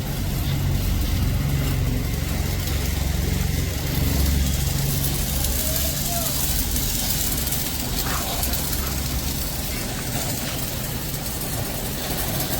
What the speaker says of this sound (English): The bike is getting washed.